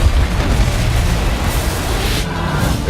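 Loud, dense explosion effect from the film Thor: The Dark World, a sustained deep rumbling boom that roars without break for about three seconds.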